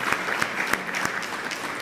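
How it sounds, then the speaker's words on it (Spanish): Audience applause at a health forum, a steady patter of many hands clapping with sharp individual claps standing out, moderately loud and continuing without talk. "Discúlpenme que haya interrumpido el aplauso."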